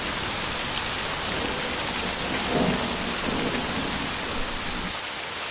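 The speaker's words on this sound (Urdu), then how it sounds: "بارش اور طوفان اتنا تیز تھا کہ شانو سمیت سبھی پرندوں کے گھر ٹوٹ گئے۔" Heavy cartoon rainstorm with thunder: a steady, loud wash of pouring rain fills the whole stretch, with a low rumble of thunder swelling near the middle, and no voices.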